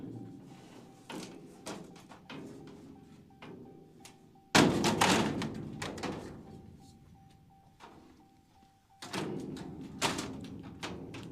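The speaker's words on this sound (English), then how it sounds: "Close that door so you guys don't gotta hear the dinging." A truck door thumps shut a few times amid rattling handling, each hit sharp and close, while a steady door-open chime dings in the background until it cuts off.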